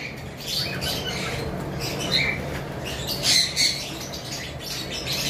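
An albino cockatiel from a breeding pair squawks as it climbs out of its nest box, giving a few short, bright calls over a steady, noisy room background.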